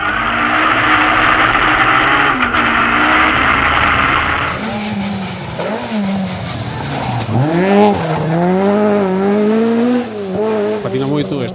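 A historic rally car slides along a rally stage with sustained tire squeal and a loud, close engine note that rises and falls through the skid.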